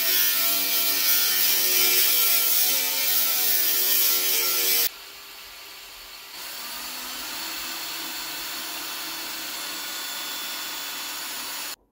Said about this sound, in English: my Makita isn't making a dent in trying to drill through the top of that